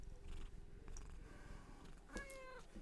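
A cat purrs close to the microphone in a steady low rumble, with a short meow near the end.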